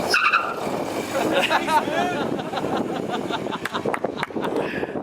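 A Nissan Silvia pulling away from a stop, its engine revving close by alongside a brief tire chirp and road noise. Excited voices talk over the car throughout.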